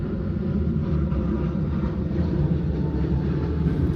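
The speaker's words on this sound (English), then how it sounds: "a plane flying over. I can hear it." An airplane flying overhead outdoors, a steady broad low rumble that holds evenly throughout, moderately loud and distant in character, with no voices.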